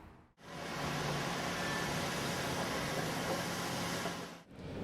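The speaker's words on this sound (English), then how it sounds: "the noise issues coming from the busy road, which is on a hill, so there is more engine noise" Steady, broadband traffic rumble and tyre hiss from a busy road on a hill in Vancouver, with engines working against the slope, a dense continuous wash of sound with no voices.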